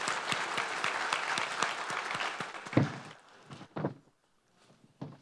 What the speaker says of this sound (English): can you guys give these guys a round of applause?